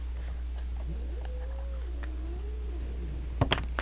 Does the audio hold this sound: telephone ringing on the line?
no